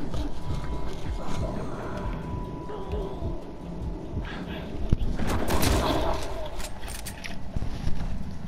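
Sniper rifle fire in Uncharted 4 online play comes as scattered sharp shots amid ongoing gunfire and battle noise, fairly loud, with voices talking intermittently over it.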